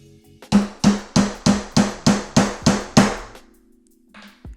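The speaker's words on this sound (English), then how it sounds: "you hammer your letters into this titanium plate" A heavy-duty titanium hammer strikes letter stamps into a titanium plate, eight loud, sharp metallic blows in a steady rhythm, each ringing briefly before the next, then a faint scrape.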